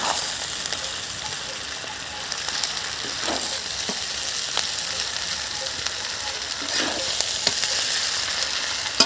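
Maggi noodles with mixed vegetables sizzling and frying in a pan, with steady close-up crackle and occasional scrapes and clinks of stirring throughout.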